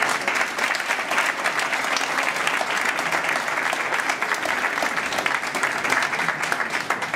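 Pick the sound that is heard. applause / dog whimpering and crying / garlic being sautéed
applause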